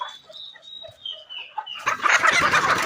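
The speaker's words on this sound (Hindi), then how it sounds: "मुर्गी की आवाज़ आई थी आपको अभी" Chickens and turkeys in a backyard poultry pen: a faint high call at first, then a loud burst of overlapping clucking and squawking from several nearby birds.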